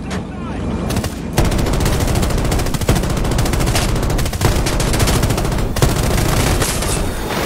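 Dense, loud gunfire in Battlefield 2042, sustained automatic bursts and booms throughout with heavy in-game combat noise and players talking over it.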